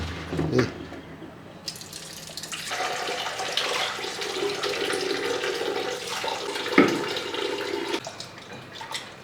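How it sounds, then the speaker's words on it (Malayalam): Tap water runs into a kitchen sink while squid is washed clean, a steady splashing gush with brief clinks and knocks of handling, close by and with no talking. "നല്ലപോലെ കഴുകിയെടുക്കുക ഒരു മൂന്നാലഞ്ച് പ്രാവശ്യമെങ്കിലും കഴുകി വൃത്തിയാക്കി എടുക്കണം"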